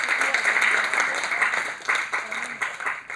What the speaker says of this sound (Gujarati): એ વાત પર એક જોરદાર તાળીઓ થઈ જાય એમના માટે.